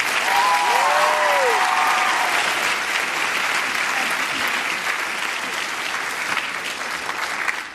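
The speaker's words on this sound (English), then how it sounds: "We can applaud for her." Sustained applause from a large audience at a Nerdfighter gathering, loud and dense at first with a few whoops, then easing slightly but continuing steadily throughout.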